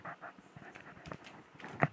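A dog pants and licks close by in a quiet room, with short wet breathy bursts in an irregular rhythm and a sharper sound near the end.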